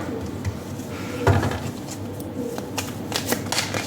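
Tarot cards are shuffled by hand at close range, a continuous soft riffling and flicking with several sharper slaps and taps of cards settling, steady and moderately quiet with no talking.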